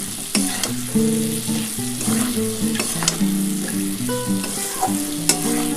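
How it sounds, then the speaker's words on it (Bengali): Cauliflower frying in hot oil with whole cardamom for a vegetarian curry: a continuous near sizzle with stirring, heard beneath steady background music and with no voices. "এর মধ্যে আমি ফুলকপিটা দিয়ে দেবো।"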